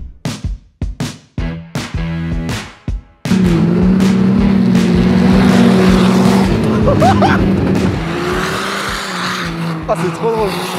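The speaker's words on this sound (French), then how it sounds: "le bruit du turbo, mon gars. Ah, oh, le turbo." Loud turbocharged engine of a tracked buggy at a ski resort roars steadily for several seconds after a series of sharp revs, with a turbo whistle rising over the drone; voices exclaim briefly near the end.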